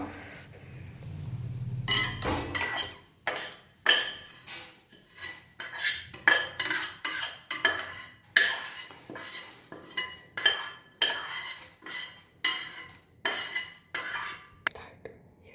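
Vermicelli roasting in ghee in a pan, stirred with a metal spoon in a brisk rhythm of repeated scraping clinks against the pan over a faint sizzle, close and loud, no voices.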